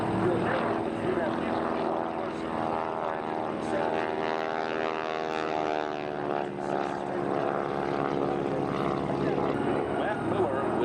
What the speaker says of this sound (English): And now here comes our P-51 coming across.